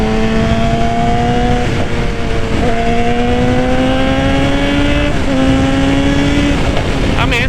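Suzuki GSX-R 750 motorcycle leaning into a turn, its engine holding a loud, steady high-pitched drone that shifts in pitch as the rider works through gears, close and continuous.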